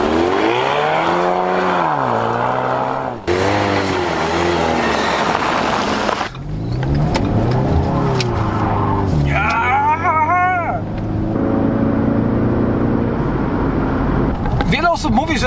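A Ford Mustang 2.3 EcoBoost, rear-wheel drive, accelerates hard with traction control off, its turbo four-cylinder engine rising and falling through several revs and gear changes, with someone talking over it.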